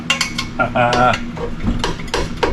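A socket wrench stuck on a header bolt during exhaust header installation, clanking and rattling in quick metallic bursts close by, with a brief ratcheting rasp among the knocks.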